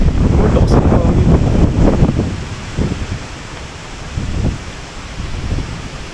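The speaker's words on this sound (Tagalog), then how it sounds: "Lakas ng hangin." Strong wind roars and buffets the microphone in heavy gusts on Mount Samat, loud at first then easing, with faint voices briefly underneath.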